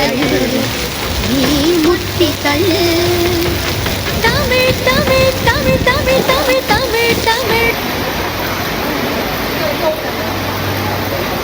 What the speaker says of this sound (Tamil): சிங்கப்பூரில் திடீர் திடீர்னு தான் மழை பெய்யுது பாருங்க